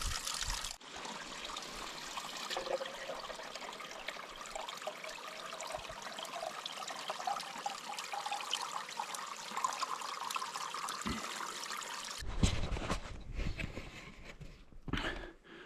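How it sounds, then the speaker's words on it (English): Fresh water trickles steadily out of the ground just above a mountain road during a spring bear hunt, a soft, continuous close-up babble that ends in a few seconds of louder rustling and handling noise. "The water is coming out just above this road right here."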